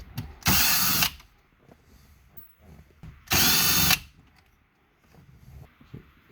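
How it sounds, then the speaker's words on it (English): A power drill with a number 7 socket spins out bolts on a Ram, Chrysler, Dodge or Jeep U-Connect 8.4 inch screen, two loud close bursts of about half a second each, separated by quiet handling clicks. "So now we're gonna remove those 4 bolts with number 7 socket here."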